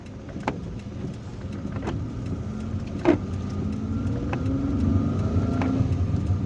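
A car drives along a city road in Algiers with a steady low rumble of tyres and engine from inside the cabin, broken by a few sharp knocks and clicks.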